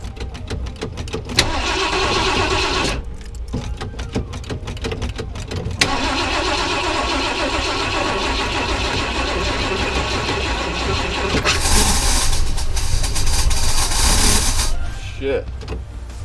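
Car engine cranking and sputtering on a start attempt after sitting six months, a steady mechanical churn broken by brief pauses, with a louder surge near the end.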